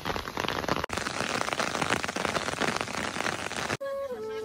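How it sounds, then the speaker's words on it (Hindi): Rain mixed with small hail falls steadily in a village setting during a storm, a dense, loud patter with sharp ticks. It cuts off abruptly near the end, leaving quieter background sound. "बारिश हो रही है और थोड़े थोड़े ओले भी गिर रहे"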